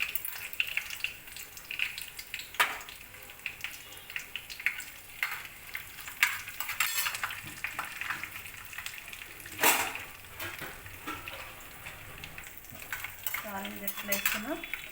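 Tempering spices and fenugreek seeds fry in oil for a sorrel leaf curry, with a faint, steady sizzle broken by occasional sharp clinks of a spoon against the pan.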